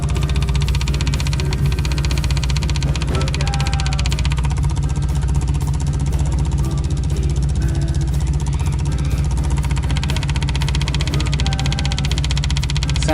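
A noisy VW diesel engine runs loud and steady while its fuel system is primed, with a constant low knocking rumble throughout.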